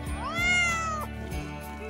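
A cat meows clearly at close range, a couple of drawn-out rising and falling calls over a steady background hum.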